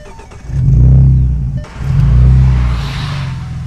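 A Morgan Roadster with a 3.7-litre V6 starts and revs hard twice, each blip a deep, loud, close swelling roar that falls back. It then settles into a steady idle with a faint hiss on top.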